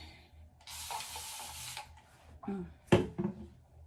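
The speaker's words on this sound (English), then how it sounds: "I'm gonna spray my hair with water" One soft hiss of a water spray bottle misting hair, lasting about a second, followed by quiet rubbing and a couple of light handling knocks.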